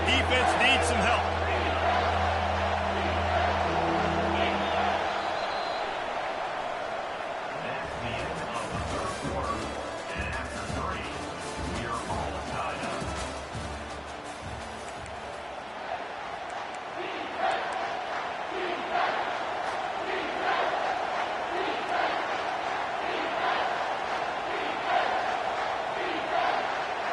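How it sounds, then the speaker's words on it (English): A simulated stadium crowd roars and swells in a Madden American football video game, a continuous dense cheer rising under steady commentator talk. "This crowd rising up, sensing that its defense needs some help"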